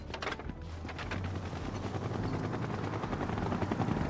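Helicopter flying in Final Fantasy VII Rebirth, a steady low rotor thrum with rapid chopping pulses, fairly faint and continuous, with no voices over it.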